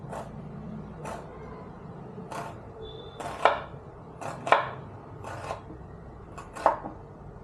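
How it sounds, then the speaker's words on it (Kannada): A knife cuts onions for rava dosa, giving a steady series of crisp chopping thuds on a board, about one per second, close by and clear, with faint background room noise. "ನಾನು ಈರುಳ್ಳಿ ಕಟ್ ಮಾಡಿಬಿಡ್ತೀನಿ"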